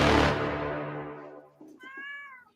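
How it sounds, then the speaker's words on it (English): After a loud crash fades, a cat gives a single clear meow in the background, near and distinct. "there's Bane Cat in the background"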